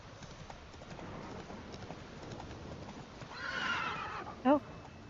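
Geralt's horse Roach in The Witcher 3 gives a short, close neigh after a rising snort, heard over soft background ambience.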